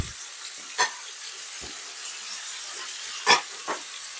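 Onion sautés in a pan with a constant soft sizzle, broken by a few sharp utensil taps against the pan.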